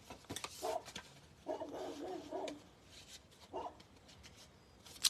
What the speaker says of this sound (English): The neighbor's dog is not happy about something outside.